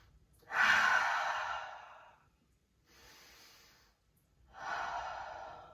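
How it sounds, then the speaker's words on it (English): Deep breathing during a yoga session on the feet, with long, airy inhales and exhales heard close up, three big breaths with quiet gaps between, no talking. "3 more big inhales"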